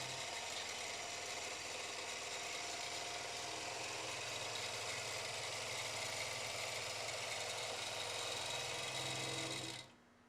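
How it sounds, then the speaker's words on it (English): A-1 long arm quilting machine runs steadily as it stitches a circle, a continuous loud mechanical whir and hum that holds for about ten seconds before cutting off at the end. "Lock your stitches in and turn the machine on, and when you do, you can go around in a circle."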